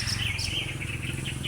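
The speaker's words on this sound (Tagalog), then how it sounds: "Ang mga ibon doon sila ay tumira." Birds chirp and tweet outdoors in a short burst of repeated high calls over a low steady background hum.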